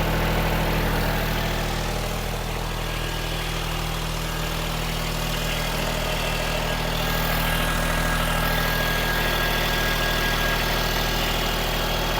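Kubota B2140 compact tractor diesel engine idling, a steady, smooth low rumble with an even mechanical hum, held close and constant throughout with no talking.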